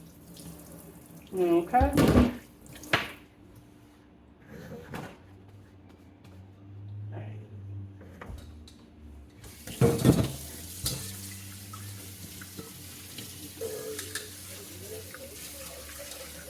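Water runs from a kitchen tap into the sink during washing up while making chocolate cheesecake cookies, a steady hiss in the second half, with earlier clatter of dishes and a person briefly speaking.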